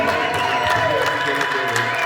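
A congregation applauds during a prayer at a Christian wedding, with steady, dense clapping from a crowd that runs continuously under voices and some tonal sound.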